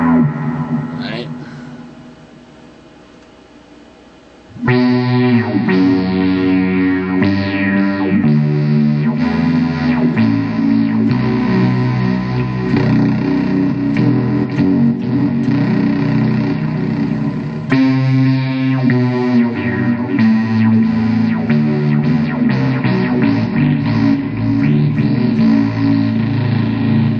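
A Meris Enzo guitar synth pedal in monophonic mode plays single-note lines, loud and sustained with a distorted, chorus-like synth tone that starts after a quiet lead-in and runs continuously.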